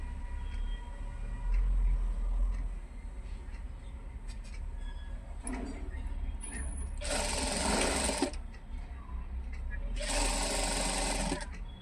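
A sewing machine stitches a dress neckline in two loud, rapid bursts of a few seconds each, separated by quiet handling pauses, with someone speaking between the runs.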